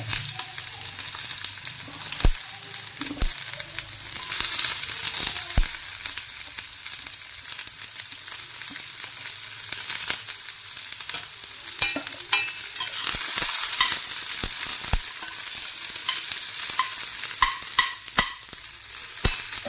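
Ingredients such as ginger sauté in a pan for a baby jackfruit gravy, giving a steady, close sizzle broken by sharp scrapes and clacks of stirring, with no talking.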